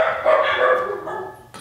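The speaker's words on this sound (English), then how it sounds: "That would be the dogs." Dogs barking inside a home during a paintbrush review, one fairly loud, sustained bark or short burst of barks heard alone, without talk.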